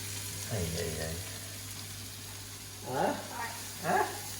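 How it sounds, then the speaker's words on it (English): Thinly sliced leek and onion sizzle in a pot, with a quiet steady frying hiss beneath a voice speaking at intervals. "Okay, now add the leek."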